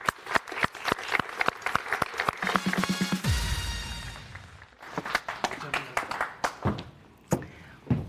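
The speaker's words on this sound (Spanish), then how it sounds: "Por favor, un aplauso." Dense applause from a live audience at a stand-up comedy show, a steady wash of many hands clapping that thins into scattered, sparser claps toward the end, with a brief voice rising over it midway.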